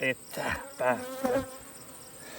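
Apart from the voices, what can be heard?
honeybees buzzing around a hive frame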